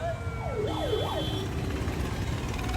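Ambulance siren wailing in rising and falling sweeps, with other emergency vehicles nearby, amid a tense roadside police deployment at the Khanauri border during a farmers' protest; steady traffic rumble underneath and no talk.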